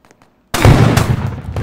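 Video game gunfire bursts out loudly after a near-silent start, a dense rattling blast with a couple of sharper cracks following.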